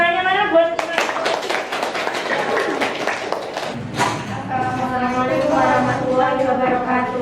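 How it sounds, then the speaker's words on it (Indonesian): Students in a classroom clap for a presenting group, a short burst of close, brisk claps that quickly fades as voices take over and talking continues through the rest. "Tepuk tangannya mana buat Imam?"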